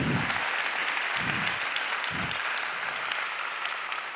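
Dense, steady applause from a big forum audience carries on throughout, loud and continuous, with a few low thumps under the clapping.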